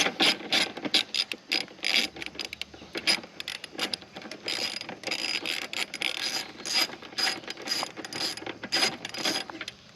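Rapid ratcheting clicks from a 13 mm ratchet wrench loosening the rear exhaust bolt on a 2024 Kawasaki ZX6R 636, fairly close, in steady bursts of clicks and brief pauses across the whole stretch, with no talking.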